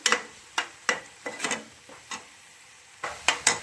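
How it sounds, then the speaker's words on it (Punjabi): Onions and green chillies frying in a wok while being stirred, a series of sharp scraping strokes against the metal pan in an uneven rhythm over a soft background sizzle, close and alone. "ਪਿਆਜ਼ ਤੇ ਹਰੀ ਮਿਰਚ ਇਹ ਵੀ ਪਾ ਲਈ ਮੈਂ ਇੱਥੇ ਇਹਨੂੰ ਆਪਾਂ ਚੰਗੀ ਤਰ੍ਹਾਂ ਹਿਲਾ ਲੈਣਾ"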